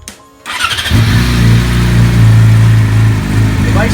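A 2016 Yamaha R6 sport bike fitted with a Yoshimura exhaust cranks briefly, catches and settles into a loud, steady, throaty idle close by, with small rev blips near the end.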